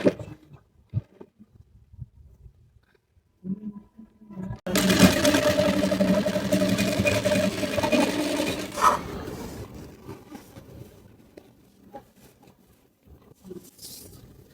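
A sewing machine runs in one burst of about four seconds, putting a half-inch seam into a blouse, with quiet handling and rustling before and after.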